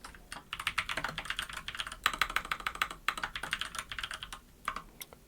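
Rapid, steady typing on a computer keyboard while entering a name in a word processor: dense clusters of close, crisp key clicks with brief pauses, heard alone.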